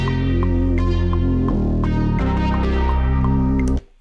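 A synth lead and a thick, heavy bass line play together in a Maschine MK3 beat, loud and sustained, with steady rhythmic notes and a shift in the bass partway through before an abrupt cut near the end.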